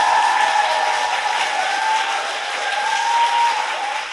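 A studio audience applauds lawmaker Jung Chung-rae during a Korean political talk show taping. The applause is loud, dense and sustained, with no talking over it.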